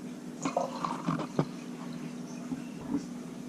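Mint, lime and agave drink poured back into a sanitized container, with soft splashing trickles and drips coming in short uneven bursts, close up and fairly quiet.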